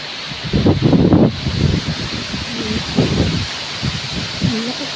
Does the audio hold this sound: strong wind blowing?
yes